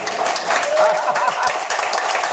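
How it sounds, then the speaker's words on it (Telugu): Clapping from a church congregation fills the clip, a steady crowd applause with dense overlapping claps, loud and continuous, with some voices mixed in. "ఎంతమంది చప్పట్లు కొడతారు ఇప్పుడు?"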